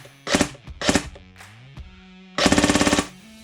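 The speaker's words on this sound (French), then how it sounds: "de façon à ce que vous puissiez vraiment entendre le principe même de burst de 2" An Ares H&K SL10 ECU airsoft rifle fires several electric bursts, two quick rounds each, with the mechanism ringing between them, then a longer rapid string of shots near the end, all close and crisp with no talking.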